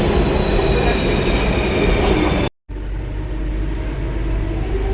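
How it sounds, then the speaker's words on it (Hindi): Delhi metro train pulling into a station, a loud rumbling roar with high squeal tones, cut by a brief gap before continuing slightly softer as it slows, heard close on the platform. "ओके, मेट्रो भी आ रही है।"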